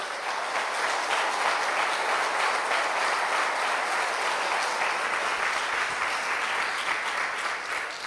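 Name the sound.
church congregation applauding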